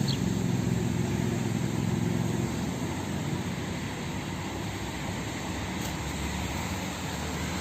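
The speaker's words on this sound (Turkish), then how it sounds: "Her yerden ses geliyor. Araba sesi ayrı." Steady road traffic drones from a park campsite near central Mersin, a continuous low, distant rumble of passing cars that holds evenly throughout with no voices.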